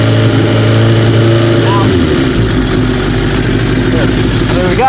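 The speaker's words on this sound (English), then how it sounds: "We'll turn up the throttle a little bit." A motorcycle engine rises from a synchronized idle as the throttle is turned up, a loud, steady close-up drone whose pitch shifts partway through, with someone talking over it.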